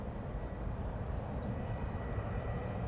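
Ryanair airliner moving at London Stansted Airport, a low steady jet rumble at moderate distance, continuous with no clear changes.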